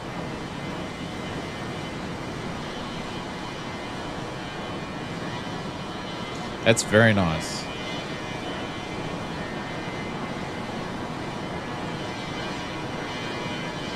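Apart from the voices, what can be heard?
Fokker F100 jet engines, Microsoft Flight Simulator 2024 video game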